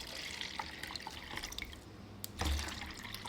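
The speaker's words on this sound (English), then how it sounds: "So I'm just gonna water with the water I had my begonia rooting in." Water poured into the reservoir of a naked root planter, a soft faint trickle and drips with a brief louder splash near the end.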